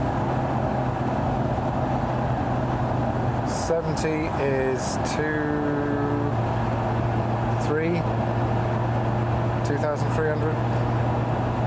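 A Lotus Emira cruises on the road, heard from inside the cabin as a steady low engine and road hum. Someone talks over it throughout.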